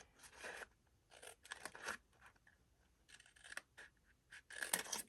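Scissors snip through paper in a vintage photo file craft project, several short bursts of crisp cutting separated by brief pauses, close and quiet with no talking.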